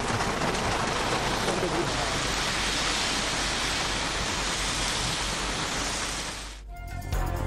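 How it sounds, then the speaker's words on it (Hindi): Heavy rain falling in Lahore, a dense, steady roar of downpour close by that holds evenly for several seconds before cutting off near the end, no voices. "लाहौर में वक्फे से बारिश का सिलसिला जारी"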